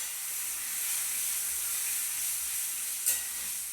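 A splash of water hits frying spices and potatoes in a hot pan, giving a steady close hiss and sizzle with one brief sharp spatter near the end. No one speaks.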